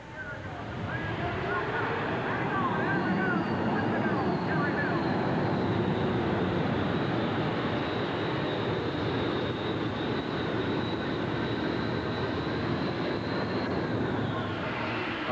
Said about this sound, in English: The high whine of the jet turbine is a sound the fans identify instantly as one to go.